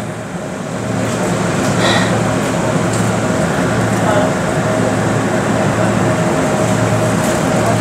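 Riding aboard a train after a change of trains, a steady, loud rolling rumble fills the whole stretch, rising from a softer first second, with muffled voices in the background.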